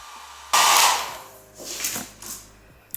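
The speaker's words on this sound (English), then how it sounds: "And I take my blow dryer on like a warm setting but low power." A handheld blow dryer on a warm, low-power setting switches on with a broad airy rush that holds steady, then softens and wavers as it moves around styled hair; no talking.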